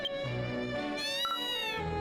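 A cat character meows in the video game Dragon Quest X, a long wavering, whiny call that rises and falls in pitch, sustained and clear over steady game music with no talking.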